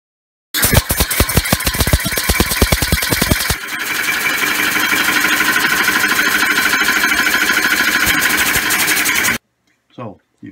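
A homemade oval air engine running on compressed air, loud and close, with a rapid even chatter of strokes that shifts to a smoother, faster running note before stopping abruptly, followed by a brief clunk.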